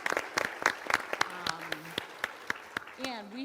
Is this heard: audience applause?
yes